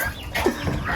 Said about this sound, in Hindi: मुर्गियाँ खाने के लिए आ गई